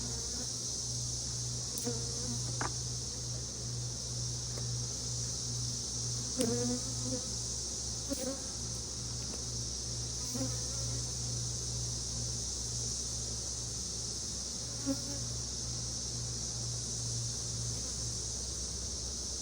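Honey bees buzz steadily inside a hive during introduction of two laying queens in push-in cages, a dense continuous drone close by with occasional small clicks and knocks.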